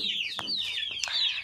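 Chicks about one and a half months old chirp close by, with several high, sliding peeps overlapping in quick succession.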